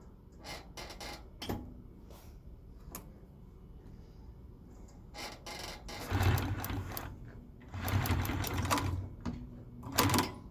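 Consew 255RBL-25 industrial sewing machine stitching in several short runs of rapid mechanical whirring and clattering, growing louder in later bursts, with clicks and handling noises between runs and no speech.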